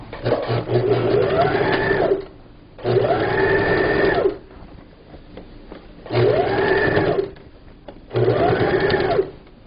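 A sewing machine stitches a folded table cover in four loud, steady bursts of a few seconds each, with brief quiet pauses between runs.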